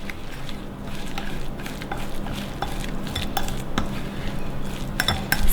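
Protein cookie batter mixed with splashes of cashew milk in a bowl, a close run of spoon scrapes and clinks against the bowl with no voices.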